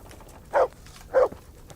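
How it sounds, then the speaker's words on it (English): A dog in the medieval role-playing game Kingdom Come: Deliverance gives two short, separate barks about half a second apart, moderately loud against quiet background, with no talk. "Stop barking."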